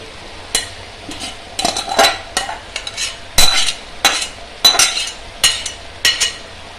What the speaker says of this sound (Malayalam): റൈസ് ഗ്രേവിയിലേക്ക് ഇട്ട് കൊടുക്കുകയാണ്.